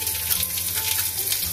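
Butter (Blue Band) sizzling in a pot with butternut squash and carrots, a brief continuous close hiss with faint crackles and no talking.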